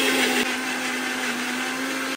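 A blender whirs steadily while making mango juice, a loud even motor hum with a slight shift early on, running alone until it cuts off at the end.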